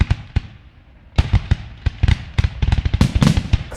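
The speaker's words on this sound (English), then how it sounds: "so loud bangs like fireworks" Loud fireworks bangs, a sparse few sharp cracks at first, then a rapid dense burst of overlapping explosions, near and powerful.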